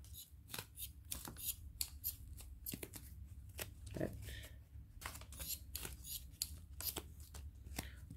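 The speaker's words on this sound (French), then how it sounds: "on ne s'embête pas, on coupe. Je vais faire plusieurs morceaux comme ça." Scissors cut rice paper into several pieces for a mixed media jewelry box. Rapid, crisp snips and papery rustles run throughout, close up, while someone speaks French over them.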